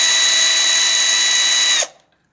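A cordless screwdriver loosening screws set to about 4 Nm of torque, a loud, steady high-pitched whir running close by for nearly two seconds before stopping abruptly.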